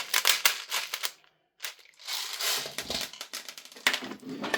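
BB pellets being loaded into the magazine of a VFC Maxim MDX SBR gas blowback airsoft rifle, making close, dense clicking and rattling that stops briefly midway and then resumes.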